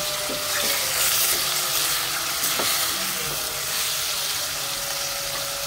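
Chicken browning in a pot for tinolang manok sizzles and fries steadily and loudly, with stirring clinks and a wet hiss as broth goes in.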